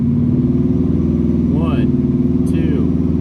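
A supercharged Ford Mustang GT with a large belt-driven turbo revs up, its engine note rising and falling steadily, loud and close, under ongoing talk.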